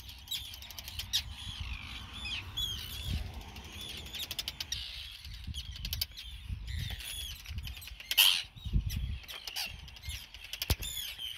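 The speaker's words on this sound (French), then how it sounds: "Arctic Tern." Arctic terns call in Iceland above a parking area crowded with birds. Sharp, repeated chirps and rasping cries come from several birds at moderate distance, along with fluttering wing sounds and low wind rumble.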